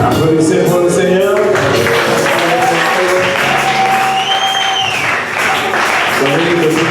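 Steady congregation clapping at a church service fills the room, dense and continuous, with a preacher speaking over it and music underneath.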